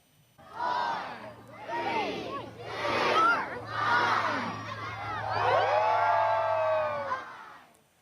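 Hundreds of people at an outdoor Christmas tree lighting in Fall River chant a countdown in rhythmic bursts, then break into loud sustained cheering and whooping.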